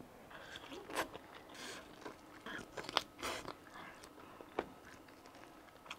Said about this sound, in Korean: 얘는 뭘 먹어도 한참을 먹어요.